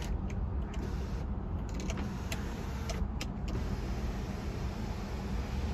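An electric motor hums steadily as the power sunroof opens on a 2016 Ford Explorer, a close, even whir heard from inside the cabin with faint clicks and no talk.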